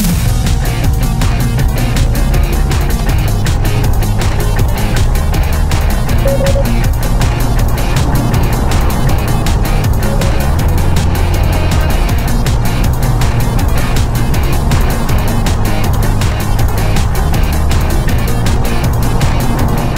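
A VinFast VF e34 electric car accelerates hard, its drive a steady, loud, close hum with busy road and tire noise throughout, no voices.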